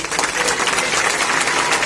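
A crowd at an outdoor martyrs' day commemoration rally claps loudly together, a thick, continuous burst of many hands close by that lasts under two seconds.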